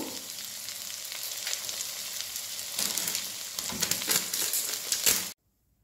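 A tablespoon of ginger-garlic paste fries with jackfruit pieces for biryani, a steady crackling sizzle with occasional stirring scrapes that grows busier before cutting off abruptly near the end.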